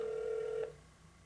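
Verizon LG Revere 3 flip phone sounds a steady electronic activation tone after send is pressed, holding clear for about half a second before cutting off into quiet line hiss.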